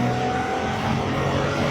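Nissan 300ZX engine pulling hard under about 10 pounds of turbo boost, a steady loud drone held close and continuous with no talk.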